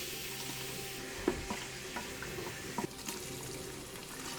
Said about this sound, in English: Adding some ginger garlic paste, mint, and tomatoes.